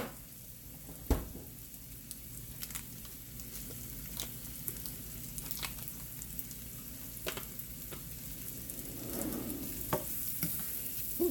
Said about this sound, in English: And then I'll put some more butter in there, and then we'll drop the squash in and let them fry.